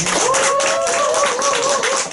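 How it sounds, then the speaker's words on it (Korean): Audience clapping at a year-end gathering of a memorial society for a singer: a steady, dense patter of many hands lasting about two seconds, with a sustained musical tone running through it. "우리가 다 박수 한번 쳐드립시다"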